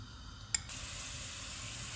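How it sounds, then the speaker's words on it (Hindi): A short plop, then a steady, soft sizzle of ginger-garlic paste frying in hot oil continues evenly to the end. "ऑयल गर्म हो गया। इसमें अदरक और लहसुन का पेस्ट डाल देंगे।"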